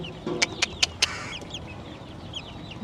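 A few sharp clucks from young chickens, including a young rooster, in quick succession, then softer chirping calls, close by over a low background rumble.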